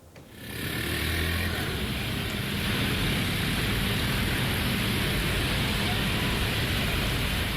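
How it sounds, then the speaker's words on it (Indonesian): Dense, steady roar of busy arterial road traffic dominated by motorcycles and cars in Karawang during heavy rain, a continuous broadband wash of engines, tires and rain with no distinct passes or voices. "Kendaraan yang melintas didominasi oleh sepeda motor dan kendaraan roda 4"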